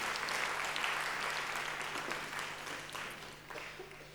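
Sustained audience applause at a public lecture, steady at first and slowly tapering off with scattered claps toward the end.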